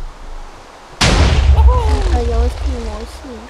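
A cannon in the video game Minecraft fires with one sudden, loud blast that rolls into a low rumble and carries on beneath a pitched voice talking.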